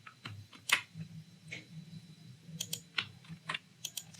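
Keys on a computer keyboard are tapped in a quiet, irregular run of close, light clicks, some in quick clusters, with no speech.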